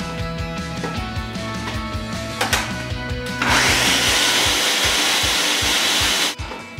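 A blender whirs to life partway through, roaring loudly and steadily as it mixes chocolate chip cookie batter, then cuts off near the end, preceded by lower humming and a few clicks.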